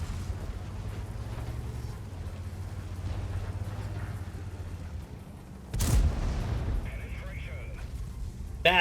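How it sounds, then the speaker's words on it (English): Artillery fire in a tank video game, heard as a loud broadband blast near the six-second mark over a continuous low engine rumble, with a second sharp impact at the very end. "You get hit so easily through the walls by artillery here."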